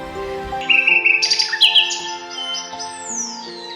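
A nightingale sings alone in a clear, close phrase of bright whistled notes, chirps and rising sweeps over a steady tonal background, fairly loud with no talking.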